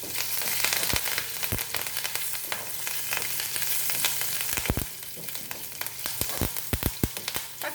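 Curry leaves and spices frying in hot oil in a pan as a tempering for a drumstick-leaf curry, a loud continuous sizzle and crackle close up, punctuated by sharp pops and spoon scrapes, with no voices.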